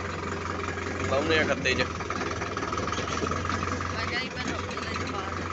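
A tractor engine runs with a mulcher attached, a steady mid-pitched idle rumbling throughout while people talk loudly over it.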